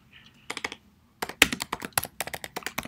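Typing on a computer keyboard while entering text in the VS Code editor: a short tap burst, a pause, then quick, uneven runs of close key clicks.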